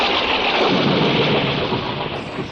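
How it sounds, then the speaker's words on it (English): Loud, sustained rumbling crash of thunder from a lightning strike during a storm, a broad roaring roll that fades slightly toward the end, with no voices. "With an ear-splitting crash, a jagged fork of lightning crackled out of the clouds and hit the tip of the mast."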